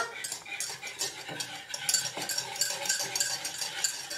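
Sugar being stirred in a mixing bowl for a cream and strawberry cake, a busy, continuous scraping and clinking of a utensil against the bowl, close and fairly loud with no talking.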